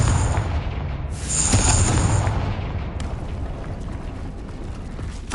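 A Confringo fire spell explodes in the wizarding game Hogwarts Legacy, a loud, dense roaring blast with crackling bursts that stays intense for several seconds before easing into a lingering rumble, with no speech.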